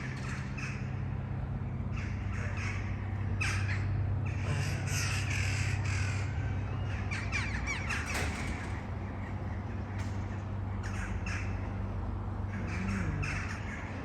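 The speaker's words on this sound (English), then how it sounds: "It's like crows." Crows squawk and caw at sunset in Naples, with Vesuvius in the distance, in a busy overlapping chorus of harsh calls that repeat steadily over a constant low background hum.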